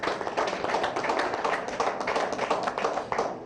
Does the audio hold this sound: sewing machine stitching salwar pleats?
no